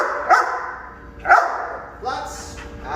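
A German shepherd puppy during tug and out training with a ball, giving short sharp barks and yips in a loose rhythm, close by.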